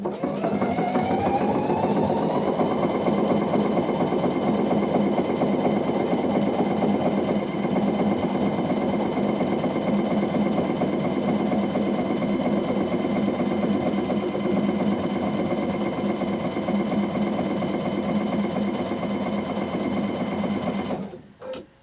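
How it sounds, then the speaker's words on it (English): A Pfaff Icon or Expression sewing machine stitches a repeating leaf pattern in a loud, steady motor hum for about twenty seconds, then stops by itself abruptly. "When I've sewn 3 leaves, it will stop by itself."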